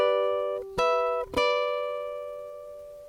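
A ukulele plays a short part of an intro riff: a few distinct plucked notes in quick succession, each ringing on and fading gently, soft and close with no voices.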